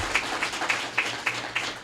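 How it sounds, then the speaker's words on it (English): A small audience at a school press event claps, with a sparse, rhythmic pattern of individual hand claps over a light crowd murmur, short and moderately near. "Let's give him a round of applause."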